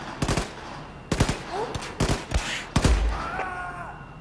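Bursts of gunfire in the shooter game Wolfenstein II: The New Colossus, several loud, sharp volleys of shots spaced about a second apart, ending with a heavier impact as a headshot lands.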